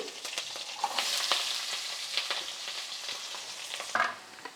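Two onions fry in a pan with mustard seeds, green chilies and greens for avarekalu soppu bassaru, giving a bright continuous sizzle with crackles and occasional spoon scrapes.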